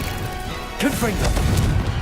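A Confringo explosion spell goes off in the video game Hogwarts Legacy: a sudden, loud, bursting crash that trails into a rumbling tail, with a voice heard at the same moment.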